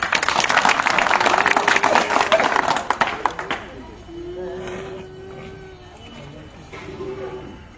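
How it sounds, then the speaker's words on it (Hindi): Loud clapping from a village gathering crowd in the opening three seconds, dense and sustained, then fading into quieter background chatter and a voice. "आप सबसे भी निवेदन करता हूं एक बार जोरदार तालियों के साथ"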